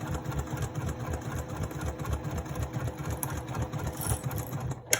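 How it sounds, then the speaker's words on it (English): A sewing machine runs steadily, top stitching the long side of a fabric handbag with a fast, even mechanical hum, close and continuous, with a brief click near the end. "Again, I sew to as close to the clip as I can so I know my fabric's not shifting."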